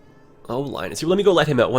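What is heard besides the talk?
cat meowing in the background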